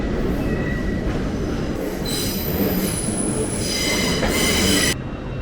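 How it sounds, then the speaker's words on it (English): A London train's steel wheels squeal loudly over steady rolling rumble, high-pitched screeching tones rising and falling before the noise drops off abruptly at the end. "We've made it onto our train"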